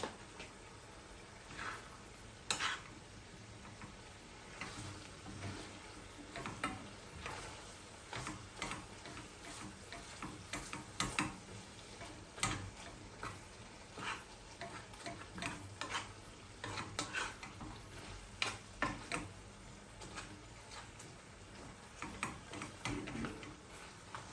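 A metal spoon scrapes and clicks steadily in a pan while alamang shrimp paste with pork and vinegar is stirred, with a quiet sizzle underneath and irregular taps throughout.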